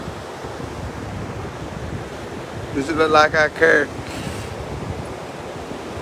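Steady surf and gusting wind on Ocean Lakes beach roar continuously and close to the microphone, while someone speaks briefly over the noise partway through.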